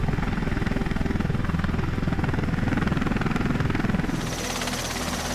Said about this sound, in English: The Osprey is a tilt-rotor aircraft